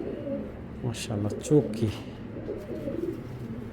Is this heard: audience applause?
no